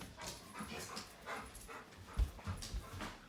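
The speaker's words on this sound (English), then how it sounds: "dog's getting a little hyper" A hyper dog pants in quick rhythmic breaths close by, with faint whimpers and a soft thump, quiet throughout with no talk.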